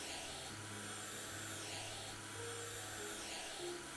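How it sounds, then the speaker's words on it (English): A squeegee wiping a window in the House Flipper video game gives off a steady, droning vacuum-cleaner whir that carries on unbroken at a moderate level. "It's a squeegee, but why does it make vacuum sounds?"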